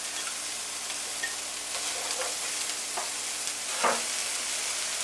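Chopped onions fry in a little butter or margarine for a sweet curried mince, giving a steady soft sizzle with a few light crackles and one louder pop near the end, with no voices.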